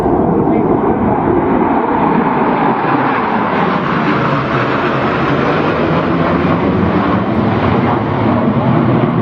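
A loud, roaring F-14 Tomcat fighter jet engine drones throughout, its pitch sweeping slowly as the aircraft passes, with rumbling wind noise buffeting the microphone.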